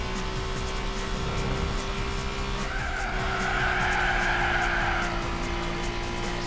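Car tires skid and squeal in a Suzuki K-Car one-make race in the video game Gran Turismo 4, a drawn-out screech rising over a constant engine drone for several seconds.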